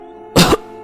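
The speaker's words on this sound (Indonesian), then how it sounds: "terdengar suara orang batuk ketika pintu gudang itu tertutup" A single person's cough in an audio drama, set by a storeroom door as it closes: one loud, harsh burst out of near silence, with the start of another cough cut off at the end.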